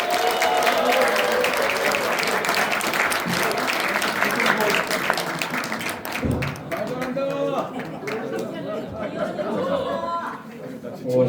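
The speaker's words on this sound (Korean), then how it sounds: "격려해 주시고 박수를 보내주시기 바랍니다" Applause from party members and residents at a lawmaker's report meeting in the Cheongju gymnasium, a broad, sustained wash of clapping, loud at first and then thinning, with chatter and a few laughs mixed in.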